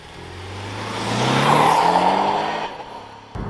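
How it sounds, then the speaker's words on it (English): A Porsche 718 Boxster Style Edition accelerates while driving, its engine revving up in a rising, swelling drone that peaks mid-clip and then fades with a brief gear-change dip near the end. "Now let's get to driving this car."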